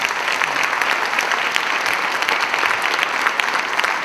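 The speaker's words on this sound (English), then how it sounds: "A round of applause for all of our judges and a big thank you." An audience at an awards event gives a round of applause for the judges, dense continuous clapping from a large crowd, fairly loud and even throughout.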